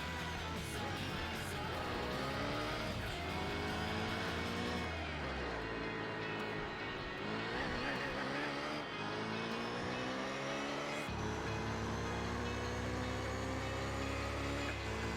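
Race car engine roar from the video game Gran Turismo 4, with shifting, rising and falling revs as the tires thump and skid over bumpy ground, loud and continuous throughout.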